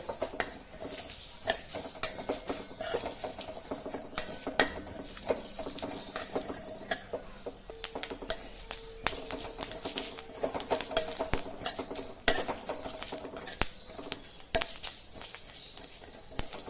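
Cumin, nigella and carom seeds are dry-roasted with dried chilies in a pan. A utensil stirs and scrapes them with busy clinks and rattles and a light crackle, close up and with no talking.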